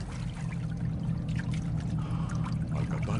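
Water in the Modern Warfare II video game pours and trickles steadily for several seconds, a continuous close splashing flow with no voices over it.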